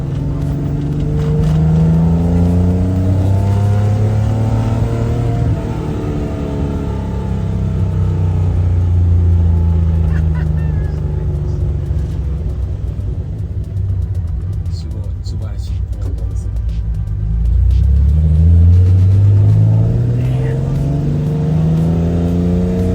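A classic Nissan Skyline Hakosuka being driven, its engine droning low and rising and falling through revs from inside the cabin, with people talking throughout.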